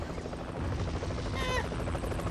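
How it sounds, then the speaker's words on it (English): Helicopter in the video game Zombies Monsters Robots, a steady rotor drone under a constant layer of game noise, with a brief electronic warble partway through. "Where'd we get the second chopper? We came in with two."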